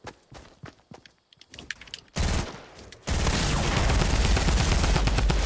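Gunfire in Fortnite erupts as a burst of shots, then sustained rapid fire that runs loud and dense to the end, following quieter footsteps and scattered clicks.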